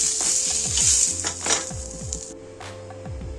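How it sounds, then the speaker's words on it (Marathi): Peanuts roast with a little oil in a kadhai, giving a steady soft sizzle under repeated scraping and clanking strokes of a spoon against the pan, close and fairly loud, with no voices. "अशा प्रकारे दाणे भाजून घ्यायचे, थोडं तेल टाकून कढईमध्ये।"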